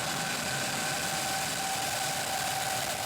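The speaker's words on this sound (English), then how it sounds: "3, 2, 1, ignition, engines full power, and liftoff." Crew-5 rocket engines roar at liftoff as a steady, dense, broadband rumble with a constant hum, continuous and loud throughout with no voices.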